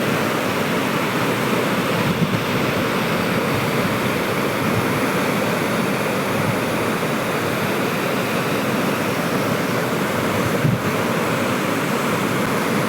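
Fast-flowing river water rushes in a steady, loud, unbroken roar close by, with no letup across the whole stretch.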